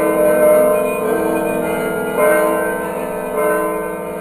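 Church bells ring with sustained, layered tones, fresh strikes arriving every second or so over a lingering resonant hum.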